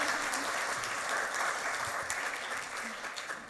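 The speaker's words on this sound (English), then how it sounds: "Big round of applause for Celine." Dense audience clapping at a design and coding event, a steady wash of applause from a crowd indoors, sustained and even for a few seconds.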